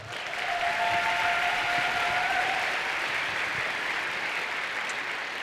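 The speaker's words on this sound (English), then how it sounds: "Real quick, round of applause." An audience at a high school commencement ceremony applauds award winners, a dense, even wash of clapping from a large crowd that holds steady for several seconds and barely fades.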